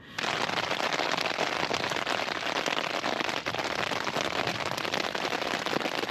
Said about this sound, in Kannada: ಬಿಟ್ಟಿಲ್ಲ ಮಳೆ ಬಿಟ್ಟಿಲ್ಲ ಇವತ್ತು ವರುಣದೇವನ ಆರ್ಭಟ